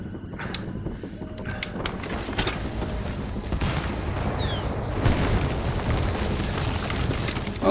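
Gunfire from shooting an enemy in Metal Gear Solid 5, heard as sharp in-game bursts and booms over a dense, steady layer of game effects and ambience, loudest toward the end.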